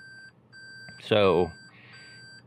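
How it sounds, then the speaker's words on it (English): A continuous high-pitched electronic reversing beep from a 2020 Toyota Prius Prime runs throughout, broken by short gaps, while a voice briefly speaks over it. "Every time you put it in reverse, it beeps at you."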